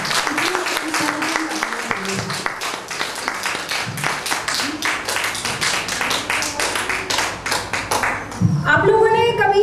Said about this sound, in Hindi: आगे बढ़ने से पहले एक बार फिर से जोरदार तालियां हो जाएं।